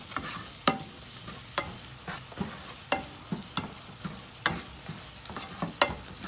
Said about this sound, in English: we're gonna go ahead and mix that all together